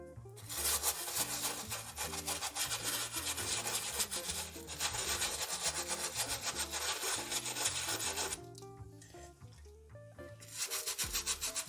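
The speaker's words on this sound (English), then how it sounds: "gently start scrubbing the canvas upper on your Vans" A brush with foam scrubs the canvas upper of Vans sneakers in quick, rhythmic back-and-forth rasping strokes, close and continuous with a short pause near the end.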